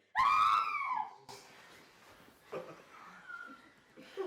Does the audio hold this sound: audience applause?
no